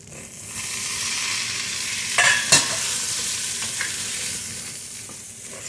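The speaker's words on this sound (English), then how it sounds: "So I'm gonna fry up my potatoes in this." Potatoes fry and sear in a hot pan, sizzling loudly and steadily at close range while a utensil stirs and scrapes them a couple of times midway.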